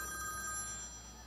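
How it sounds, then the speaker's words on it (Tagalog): A telephone rings in short repeated bursts of a bright, high electronic tone, moderately loud over a steady low background hum with no talking. "Oh, yan, oh, may nagre-ring. Teka, may tumatawag. Asan ang telepono?"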